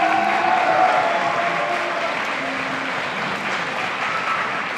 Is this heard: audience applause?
yes